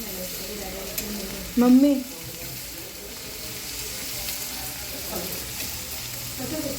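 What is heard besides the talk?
pieces frying in oil being flipped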